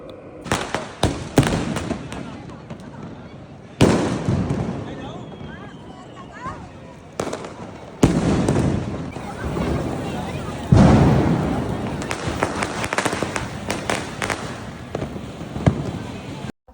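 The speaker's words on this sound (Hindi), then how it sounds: "बहुत सारे पटाखे फोड़ने के बाद" Diwali firecrackers and fireworks going off in a series of loud, sharp bangs and crackling bursts, some close and some farther off, scattered irregularly with crackling tails in between, with people's voices mixed in among the explosions.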